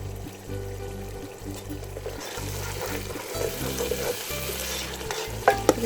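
Ground spices with red chilli and garam masala for Turkish biryani frying in a pan, a loud continuous sizzle with repeated stirring strokes and a few sharp clinks near the end, no voices.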